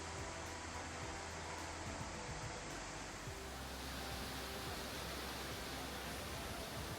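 Curtis Falls, a ten-metre waterfall in an Australian rainforest, gives a steady, dense rushing roar of falling water that fills the clip without a break and with no voices.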